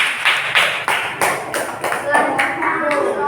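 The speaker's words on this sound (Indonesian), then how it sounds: "Tepuk tangan buat kelompoknya Galang." A group of students in a classroom claps hands together in unison for a classmate's group, a rhythmic run of about seven sharp, fairly loud claps with voices joining in alongside.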